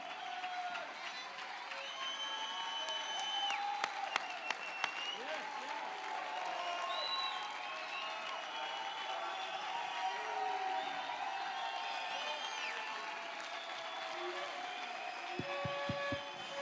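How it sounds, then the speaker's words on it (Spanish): Church congregation applauding the name of Jesus during a sermon, a steady, fairly faint wash of clapping and crowd noise lasting throughout, with scattered sharper claps and cheers mixed in. "Dele un aplauso al nombre de Jesús con todo su corazón."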